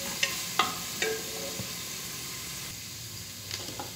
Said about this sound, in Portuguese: A cebola e o alho já refogaram. Tá bem refogadinho